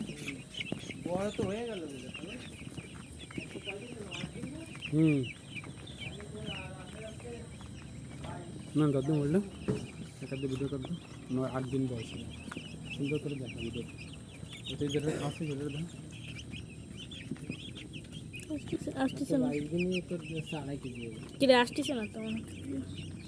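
Broiler chickens clucking in a new poultry farm, frequent clucks and calls from many birds close by, mixed with people talking throughout.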